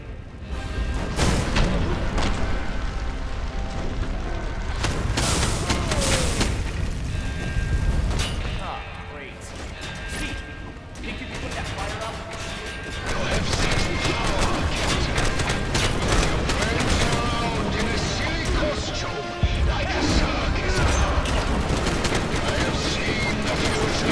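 Cannon defenses fire in a Lego Marvel Avengers video game, a dense barrage of repeated booms and rattling gunfire with mechanical clanks, continuous and loud with a short lull midway, under occasional voices.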